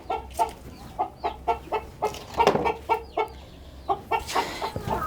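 Hens cluck repeatedly on a chicken farm, a steady run of short, close calls about twice a second with a brief flurry of louder squawks midway and fowl noise in the background.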